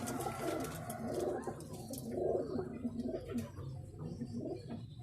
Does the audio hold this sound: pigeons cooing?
yes